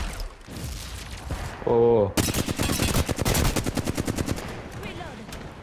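Rapid automatic gunfire rattles in a video game firefight on a balcony, a long dense burst following a brief tonal game sound, with a short spoken exclamation mixed in.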